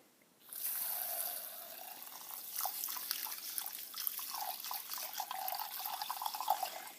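Running water rushes over long grain rice in a kitchen as it is washed, a steady close splashing that starts abruptly and carries small sloshing surges.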